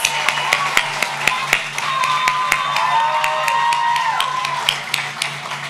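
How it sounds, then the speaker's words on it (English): Graduation audience at The Brooklyn School for Math and Research applauds performers with scattered, sharp claps over a steady wash of clapping, fairly close, with a faint sustained musical tone underneath. "Let's have another round of applause for Mr. Fofana and Miss Coles."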